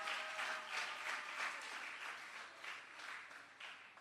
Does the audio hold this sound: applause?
yes